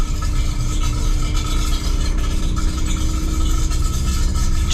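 A Fiat Punto Evo engine runs with its exhaust fallen off, producing a loud, raw, continuous rumble with rattling and scraping, heard close and constant.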